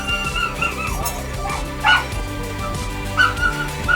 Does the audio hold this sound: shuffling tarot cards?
no